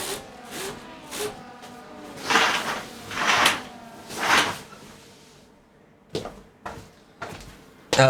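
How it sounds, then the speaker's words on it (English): Curtains being pulled shut indoors, with three soft swishing sweeps in the middle and a few sharp clicks and rattles at the end, close to the microphone with no speech. "I had to just pull my curtains"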